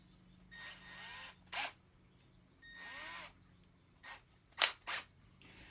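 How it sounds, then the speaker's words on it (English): A power drill spins a small polishing tool loaded with compound inside an engine valve seat on a Toro Recycler lawn mower, with several short whirring bursts and pauses, close and moderately loud, no talk. "Put it on our drill."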